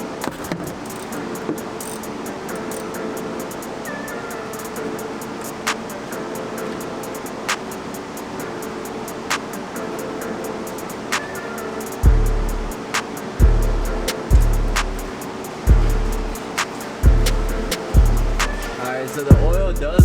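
A nitrous-equipped Ford Mustang on its first drive: a steady drone with sharp periodic ticks at first, then a series of loud, rhythmic low engine surges or thumps building toward the end.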